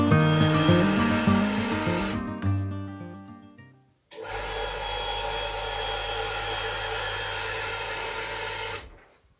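A pump in an attic whines with a steady drill-like tone, then cuts out abruptly before restarting and running evenly, fairly near and unbroken by speech.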